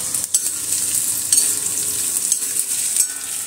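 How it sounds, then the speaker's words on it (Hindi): Potatoes shallow frying in a tablespoon of oil in a pan give a steady, close sizzle and crackle with a few brief stirring knocks, and no voices. "जैसे आलू थोड़े से शैलो फ्राई हो रहे हैं"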